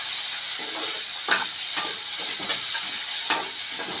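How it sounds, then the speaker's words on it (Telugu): Garlic, ginger and chilli frying in hot oil, a loud steady hiss of sizzling with soft intermittent stirring knocks and scrapes, close-up and continuous with no one speaking. "వేసుకొని దీన్ని ఫ్రై చేసుకోవాలి"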